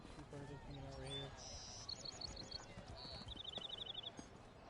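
Horse hooves clip-clop in a steady walking rhythm in The Elder Scrolls Online, soft and close, with chirping birds and a quiet voice talking over them.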